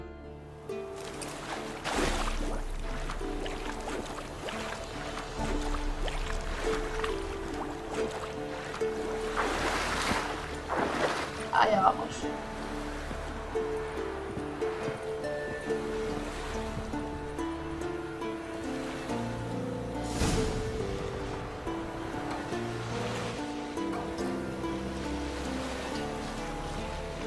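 A homemade boat on a lake, with water splashing and sloshing under a steady bed of music, plus a few brief spoken words.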